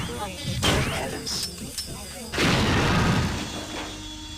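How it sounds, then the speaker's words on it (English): An explosion in the game System Shock 2, a heavy boom with shattering debris that swells partway through and slowly decays, alongside earlier crashing noises and a speaking voice. "Somehow didn't take damage from the explosion"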